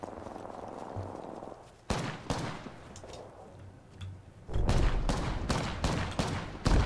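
Gunfire in the battle royale game Apex Legends, with bursts of shots and sharp cracks from a distant long-range fight, then a louder, denser run of rapid shots near the end.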